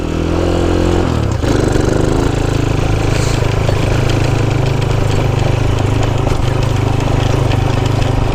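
A Honda C90 motorcycle with its standard engine runs on a trail ride, the small single-cylinder buzz close and loud. It shifts pitch early on, then holds a steady throaty drone.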